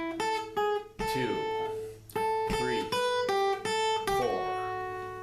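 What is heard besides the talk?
guitar playing measure 2 of a song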